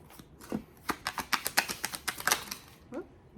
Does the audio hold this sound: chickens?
no